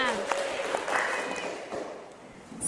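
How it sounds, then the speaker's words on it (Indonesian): Group applause in a teacher-training practice class, a soft, steady patter of many hands clapping together for a few seconds, fairly distant and fading slightly toward the end. "Oke, kita beri tepuk tangan untuk kita semua."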